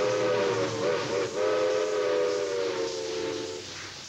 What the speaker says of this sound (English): Each summer, the romance and nostalgia of steam is replayed for visitors as the Royal Hudson makes its way along the shore of Howe Sound.